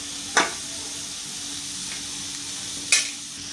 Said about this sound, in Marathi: आता ही भोपळी मिरची मी घालत आहे